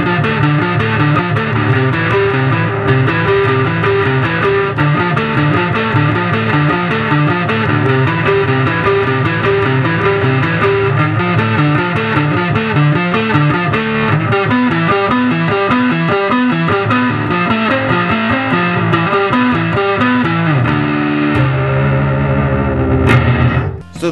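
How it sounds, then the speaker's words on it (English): A bass guitar plays through an Acoustic B100 mkII amp with distortion switched on, giving a steady, loud, gritty riff that runs for the whole stretch with no talking and ends in a sudden cutoff. "How about some distortion?"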